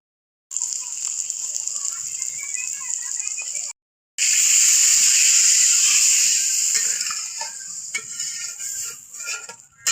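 Chicken meat with potatoes dropped into a hot pot of spice paste, a loud close hissing sizzle that cuts out briefly then surges again before easing off, with faint stirring clinks.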